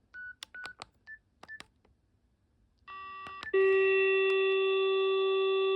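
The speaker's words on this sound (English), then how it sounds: "And we are having dial tone." Dial tone on a BT 6600 PBX telephone system: a few short dialing beeps and tones, then a steady, loud continuous tone that starts abruptly and holds to the end, close up with no talking.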